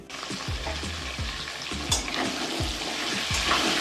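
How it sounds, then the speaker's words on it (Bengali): Potatoes frying in hot oil in a kadai, already tempered with cumin, dried red chilli and bay leaf, crackle and sizzle close by, with repeated scraping stirs at a steady rhythm. "এবার আলু কটা আমি ভেজে নেব ভালো করে"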